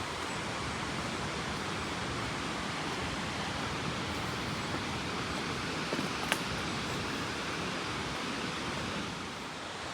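Water rushes steadily over a waterfall beside an old mill water wheel in a park, a dense, even roar that stays constant throughout with no voices.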